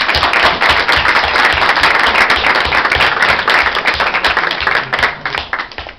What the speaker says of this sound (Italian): a cui chiedo di rivolgere un applauso